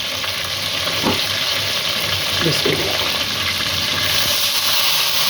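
Water pours into a pan of sizzling chicken and spices for biryani, giving a loud, steady frying hiss with splashy bursts, while someone speaks briefly over it.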